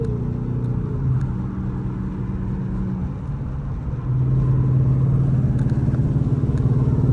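A cammed 5.7 Dodge Charger engine drones steadily under load while driving, its pitch sliding lower and then climbing again as it revs harder toward the end, loud and close.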